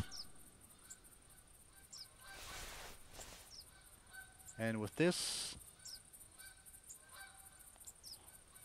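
Canada geese in the hunting game theHunter Classic give a short burst of loud, layered honks near the middle, standing out over quiet wind-like ambience, with a few spoken words just before.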